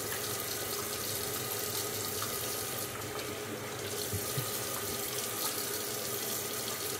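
Tap water runs steadily and continuously while a Blutt safety razor is rinsed in a sink, forming an even, close splashing hiss with no talking.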